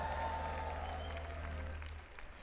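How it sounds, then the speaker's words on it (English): Applause and shouts rise from a church congregation, loud at first with a sustained held tone beneath, then thinning toward the end as the clapping tapers off. "Somebody give God a clap and a shout if you believe that"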